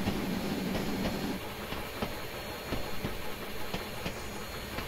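Machine Rail EFCB 0-8-8-0 steam locomotive idling in Train Simulator Classic, a steady broad hiss and rumble with faint recurring clicks and knocks throughout, and no talking.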